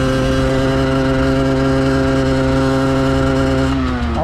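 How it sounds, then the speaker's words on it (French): A motorcycle engine drones close and loud while being ridden, holding a steady, even pitch before dropping slightly at the very end. "C'est agréable comme moto, j'aime bien."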